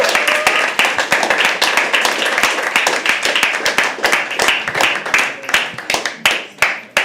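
Open mic poetry audience at The Habitat clapping as a first-time performer comes on stage, a sustained, close patter of hands that gradually thins toward the end.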